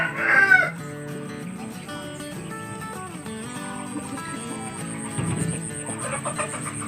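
A rooster crows nearby at the start, followed by scattered clucking from chickens against quiet background noise.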